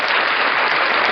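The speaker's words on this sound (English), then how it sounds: "Give him applause." An audience applauds at a live comedy-style event, a dense steady wash of many hands clapping at close range throughout, with no talk over it.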